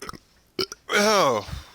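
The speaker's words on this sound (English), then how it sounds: "tell her to stop burping" A cat gives one drawn-out, croaking burp, with a few short mouth and throat noises just before it.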